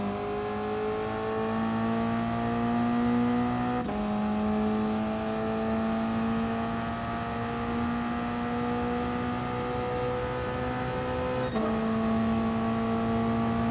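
Toyota race car engine in a racing video game at Fuji, a steady high-pitched drone with rising harmonics through two quick gear changes, loud and continuous with no talk.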